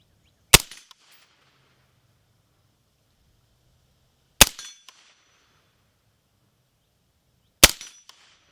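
Three sharp .300 Blackout rifle shots with 150-grain rounds fired at steel targets, evenly spaced several seconds apart, each a loud crack followed by a short ringing tail, with quiet outdoor background between them.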